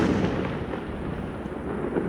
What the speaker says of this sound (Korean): 태양광 불꽃놀이 하고 있습니다